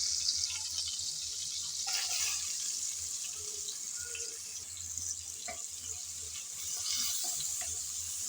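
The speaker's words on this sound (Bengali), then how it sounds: "চিংড়ি ভাজার তেলে পেঁয়াজ কুচি দিয়ে দিলাম" Chopped onions dropped into leftover oil from frying prawns, producing a continuous close hiss of sizzling, steady and fairly loud like running water, with a few faint clinks and no talking.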